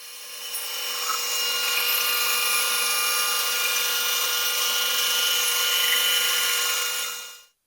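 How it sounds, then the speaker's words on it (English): A bandsaw cuts through cherry wood in a steady, loud whine with a bright high-pitched tone, holding evenly for several seconds before the cut ends and the sound stops abruptly. "off to the bandsaw, I cut as close as possible to the glue-up line"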